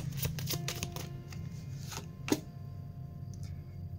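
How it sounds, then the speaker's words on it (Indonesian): Tarot cards being laid out for a reading, several quick crisp card snaps and slides in a loose sequence, close and clear, followed by a quieter stretch with one faint flick near the end. "Aku akan buka 7 kartu."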